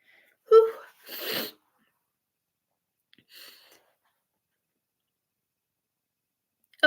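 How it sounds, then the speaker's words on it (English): A single close sneeze from a woman mid-chat, a sharp burst followed by a breathy exhale, then a faint short sigh a couple of seconds later in an otherwise quiet room. "I think I'm going to sneeze now"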